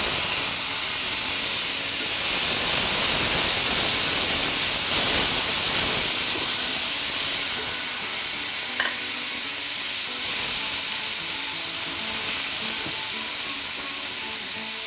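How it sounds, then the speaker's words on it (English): Tomatoes hit a hot pan for tomato chutney, setting off a loud, continuous sizzle and hiss that swells early and then settles into a steady crackle for the whole stretch. "And now it's the time to add the tomatoes."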